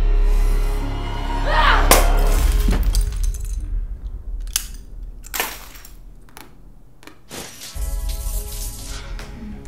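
A glass bottle shatters loudly with a sharp crash, followed by scattered tinkling and further thuds and impacts across the scene, set against a low rumbling background.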